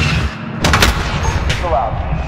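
Gunfire rings out in the video game Call of Duty Modern Warfare 2 during an assault on a US embassy in Urzikstan. A few loud, close bursts of shots sound over rumbling combat ambience, with radio chatter mixed in.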